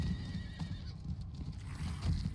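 Horse in Diablo 4, a slow mount trotting along with steady clip-clop hooves and a neigh or snort, set against a low rumbling game soundscape.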